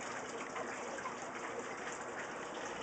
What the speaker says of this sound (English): The water goes in.